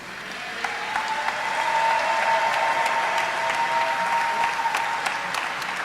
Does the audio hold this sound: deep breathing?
no